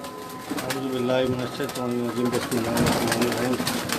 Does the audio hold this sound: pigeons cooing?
yes